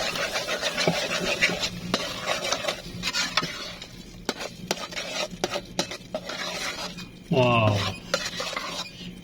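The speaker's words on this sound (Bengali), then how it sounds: "এই যে আমার ডিমগুলো একটু ইয়ে হয়ে এসছে এটা ভালো করে নাড়িয়ে নেব তাতে সবগুলোর সাথে মিক্স হয়ে যায়" Eggs being stirred in a pan while noodles are cooked, a utensil scraping and clinking against the pan in repeated strokes, fairly close, with a louder scrape near the end.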